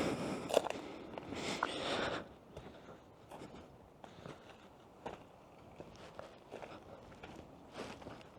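Footsteps on a rocky trail, close and faint, an irregular series of scuffs and crunches with soft rustling of clothing between steps.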